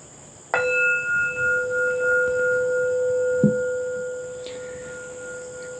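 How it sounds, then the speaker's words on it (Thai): A meditation bell is struck once and its clear, pure tone rings on steadily for several seconds, fading slowly in a quiet room. "รอฟังเสียงระฆังดังขึ้นนะครับ"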